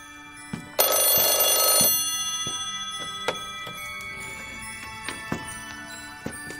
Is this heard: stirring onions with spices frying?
no